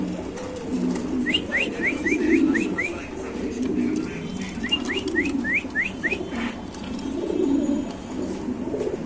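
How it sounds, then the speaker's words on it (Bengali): Fancy pigeons coo in soft repeated bursts close by, over low rumbling background noise and faint voices. "এখানে আছে শৌখিন কবুতর অরিজিনাল শৌখিন কবুতর"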